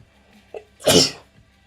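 A single loud close sneeze bursts out after a short sharp intake of breath, then quiet.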